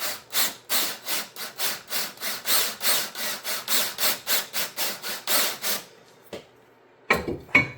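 Drill cutting into a Lotus Elise brake rotor, a fast run of about twenty regular grinding strokes up close, then stopping with a few scattered scrapes and clunks near the end.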